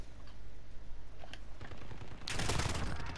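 Gunfire in Call of Duty Modern Warfare, at first sparse distant shots over a busy background, then a loud dense burst of rapid automatic fire close by in the final second.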